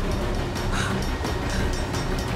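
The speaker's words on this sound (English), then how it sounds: "Stop the train, Nick." A runaway train with failed brakes rumbles along the rails in an action scene aboard a moving train, a loud continuous roar with rhythmic clatter throughout.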